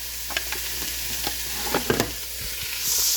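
Beef stew being stirred in a pot as it sizzles, a broad steady hiss with scattered scraping and clinking strokes of the spoon, close and moderately loud, no talking.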